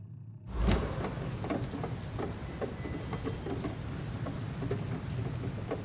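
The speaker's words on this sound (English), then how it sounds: "How about this London rain?" London rain in the video game Vampyr begins abruptly with a loud crack, then settles into a steady, dense downpour pattering on surfaces, continuous and close.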